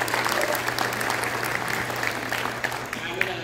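An audience applauds at a Southeastern Oklahoma State University symphonic winds concert, a steady, dense patter of many hands clapping that holds at an even level throughout, with a low electrical hum beneath.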